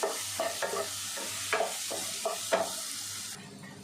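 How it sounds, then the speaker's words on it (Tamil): A spoon stirs a spiced rice mixture with fennel powder in a pot, several scraping strokes against the metal over a soft sizzle, close and fairly quiet, with no talking. "இப்போ எல்லாமே அப்படி ஒரு கிண்டிக்கலாம்."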